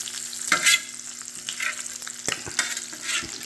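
Bacon frying on a VEVOR commercial electric griddle, a steady crackling sizzle with bursts of sharper pops and a few scraping, stirring clicks, close and fairly quiet with no voices.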